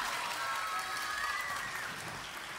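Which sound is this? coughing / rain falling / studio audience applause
studio audience applause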